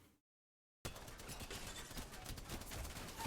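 Rapid, dense gunfire from a Spitfire machine gun in a video game, a continuous loud rattle that starts abruptly after a brief silence and keeps firing steadily to the end.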